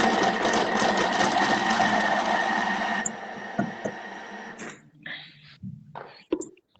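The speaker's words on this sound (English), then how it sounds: "I'm going to grind my mozzarella in my mixer" An electric kitchen mixer grinds mozzarella cheese, a steady whirring drone for about three seconds that drops to a lower hum, then stops and gives way to clattering and a quiet voice.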